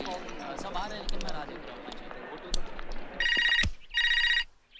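An old-fashioned telephone rings at home in a Hindi social drama, giving two loud electric bell bursts near the end after some background noise and voices.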